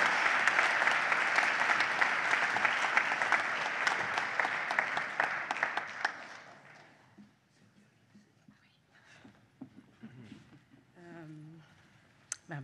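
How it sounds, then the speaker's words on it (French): Audience at the closing and awards ceremony of the Cinemania film festival applauds a co-director, a full burst of clapping for about six seconds that then thins out, followed by quiet talk and scattered sounds. "Applaudissez."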